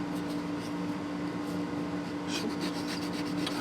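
Fine 1800-grit abrasive rubs back and forth over corroded bass guitar frets, a steady soft scrubbing hiss close by with a faint constant hum underneath and no talk.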